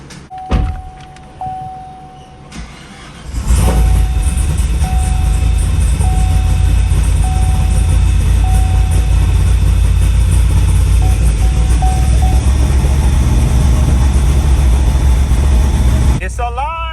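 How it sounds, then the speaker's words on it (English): A Chevrolet Camaro SS with a 416ci 13:1 compression V8, powered by jumper boxes, cranks and fires, jumping to a loud, steady, rough idle that holds close by for over ten seconds, with brief clicks and a faint beeping early on. "Let's go ahead and see if we can get this thing to crank over."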